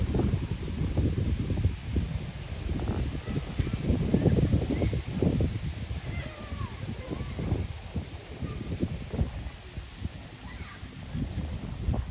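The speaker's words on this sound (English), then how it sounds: "Oh, there's wind." Gusty outdoor wind buffets the microphone in a steady, rumbling rush for about twelve seconds, with rustling underneath and an occasional crow caw in the distance.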